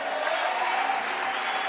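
A church congregation applauding and cheering during a pastor's sermon, a steady wash of clapping lasting a couple of seconds with no distinct voices.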